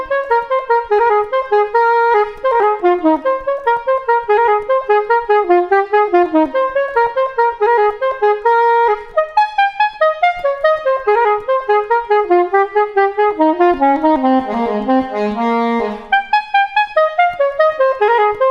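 A solo alto saxophone plays an audition excerpt slowly and evenly, a flowing melodic line with clearly separated notes and brief breath gaps, close and clear with no accompaniment.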